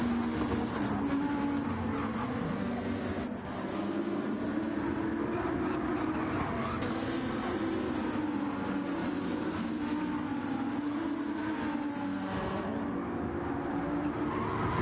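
GT2 race cars at Spa Francorchamps in a racing game, engines droning and rising in a continuous loud roar as several cars run close together, with no speech.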